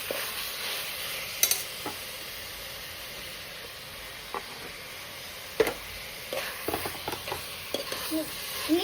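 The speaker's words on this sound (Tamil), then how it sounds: "அடுத்து தக்காளி போட்டுருவோமா?" Tomatoes dropped into a hot pan while cooking chicken biryani, giving a steady low sizzle with occasional stirring clinks and scrapes, a voice speaking briefly in the background.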